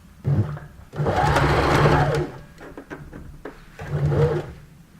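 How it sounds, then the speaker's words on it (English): A domestic sewing machine runs a long basting stitch along a sleeve seam in a trial bodice fitting, buzzing in three bursts, a short one, a long steady run, then another short run, with quiet handling between. "Now when you sew this, sew it with a big stitch because you might need to undo it later."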